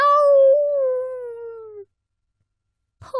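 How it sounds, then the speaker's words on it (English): A puppy howls in one long, loud, wavering cry that slowly sinks and fades, then a short silence before a brief sharp yelp at the end. "He howled and howled."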